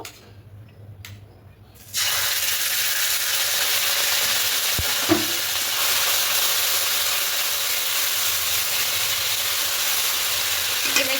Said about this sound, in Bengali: এবার এখানে আদা কাঁচা লঙ্কা পেস্টটা দেব